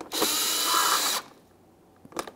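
A power screwdriver whirs in one steady burst of about a second as it drives screws into a plastic license plate bracket on the front bumper of a 2011-2021 Jeep Grand Cherokee, followed by quiet and a couple of small handling clicks.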